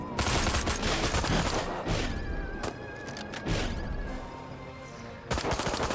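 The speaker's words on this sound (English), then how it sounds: "everyone's shooting at me" Dense, continuous gunfire from many weapons in the PC game Destroy All Humans! Remake, loud throughout with sharp bursts, a brief lull near the middle and a renewed burst at the end; no talking.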